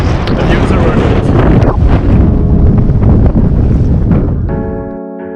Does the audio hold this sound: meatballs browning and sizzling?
no